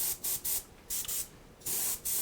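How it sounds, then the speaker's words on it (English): Aerosol spray primer hissing onto a miniature during a Shadows of Brimstone figure painting session, in several short bursts with brief pauses between them, fairly close and clear with no talking. "So I'm just spraying,"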